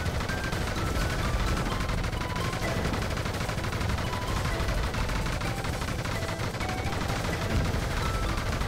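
Dense, continuous gunfire from the rail-shooter game Panzer Dragoon Remake, a loud, unbroken stream of rapid shots and impacts mixed with game music, with no pauses throughout.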